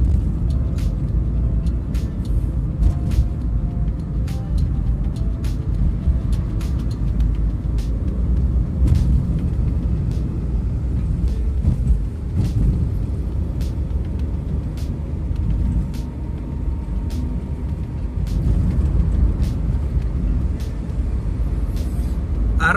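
Road traffic rolls across a bridge in Batam on a morning with light, flowing traffic, a steady loud rumble of cars and heavier vehicles passing close by, with occasional sharp clicks and hisses over the continuous drone.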